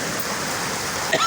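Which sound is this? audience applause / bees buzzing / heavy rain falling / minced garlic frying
heavy rain falling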